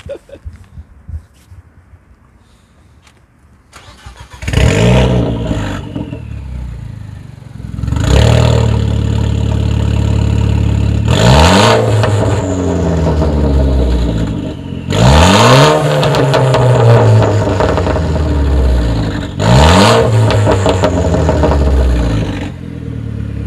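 A Renault Clio 4 RS Trophy engine revs hard again and again, roaring up and dropping back in repeated loud bursts after a quiet idle start.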